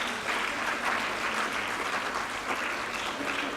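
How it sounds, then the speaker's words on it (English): Audience applause at an education department conference, rewarding the morning's presentations: a steady, even wash of many hands clapping at moderate distance, sustained without pause and with no voices over it. "And let's give them a round of applause."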